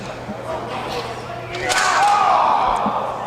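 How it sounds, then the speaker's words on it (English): A wrestler slams down onto the ring during a hardcore match with mousetraps and Christmas ornaments, a dull thud rising over crowd noise while a commentator talks. "Slamming down on the head."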